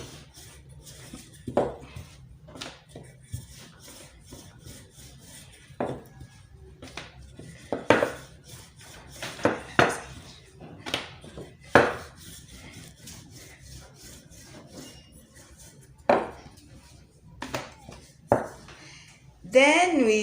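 Chapati dough worked with a rolling pin, giving soft scattered rubs and light knocks at an uneven pace, fairly close, with quiet stretches between strokes and brief background sounds.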